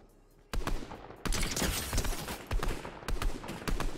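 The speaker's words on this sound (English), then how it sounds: "that's someone's shooting at you" Dense gunfire in a Fortnite match, sustained bursts and rapid shots that open suddenly after a quiet half-second and keep up close and loud for about three and a half seconds, with no talk over it.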